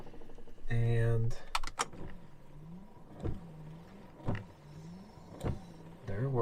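Windscreen wipers on a Jaguar XJ6 car being tested after repair: an electric motor whirs, then repeated clunks and swishes mark each wiper sweep at a steady rhythm, heard close inside the vehicle.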